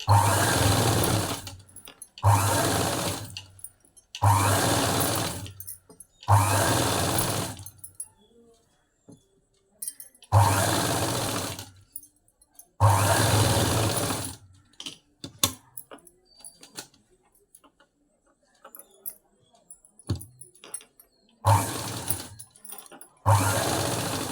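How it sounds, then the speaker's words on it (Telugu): A sewing machine stitches around a pot-neck blouse neckline with a one-inch gap, running in about seven loud, close bursts of a few seconds each, separated by quiet pauses with faint handling noises. "పాట్ నెక్ షేప్ దాని చుట్టూ వన్ ఇంచ్ గ్యాప్తో వచ్చేటట్టుగా స్టిచ్ అయితే వేస్తున్నాను"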